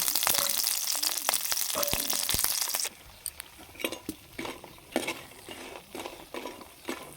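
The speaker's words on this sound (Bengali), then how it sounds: "বড়িগুলো ভেজে নেব" Lentil dumplings (bori) frying in hot mustard oil in a wok give a dense, steady sizzle with scattered utensil clinks; the frying abruptly drops away midway, leaving softer intermittent stirring and scraping sounds.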